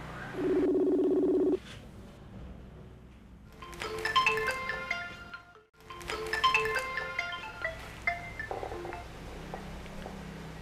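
Telephone keypad tones as a number is dialed to place a call: a steady beep, then quick runs of DTMF tones in two bursts, clear and close over a quiet hum.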